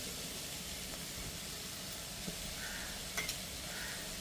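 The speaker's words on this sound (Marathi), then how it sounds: "चला आता हे परतून घेऊया. झटपट भाजी." Vegetables with ground peanuts stir-fry in a pan, giving a continuous low sizzle and faint scraping of stirring, with a couple of small clicks; no talking.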